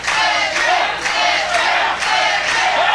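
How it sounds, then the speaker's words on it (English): A wrestling crowd at a CWF Mid-Atlantic match roars steadily and loudly, its cheers and chants swelling in waves about every half second with no talk over it. "Crowd's appreciating this amazing matchup."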